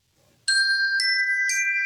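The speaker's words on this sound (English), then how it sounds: "ding dong ding, that means we just completed an exercise and we can keep it pushing." A bright electronic chime signaling a finished workout exercise plays three clear, ringing ding-dong-ding tones about half a second apart, loud and close after a near-silent start.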